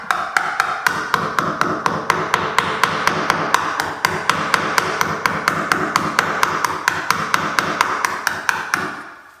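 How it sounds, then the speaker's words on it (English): A small chisel is tapped rapidly and steadily with a hammer, dozens of sharp evenly spaced knocks cutting a shallow wood mortise for a pocket door lock strike plate, close and unbroken. "We're gonna take a little chisel and chisel that out,"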